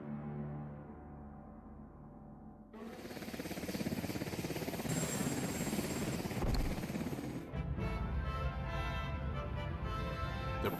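Presidential helicopter Nighthawk 1 lifting off and flying with the President aboard, a quiet low hum swelling abruptly into a loud, steady rotor and turbine roar that fills the rest of the stretch.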